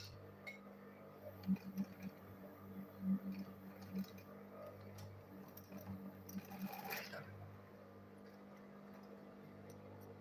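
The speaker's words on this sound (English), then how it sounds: "Then I'll go ahead and sew the remaining side." A sewing machine stitching the remaining side of a fabric lunch bag; faint, close mechanical whirring in short uneven runs with small clicks and handling noise between stitches.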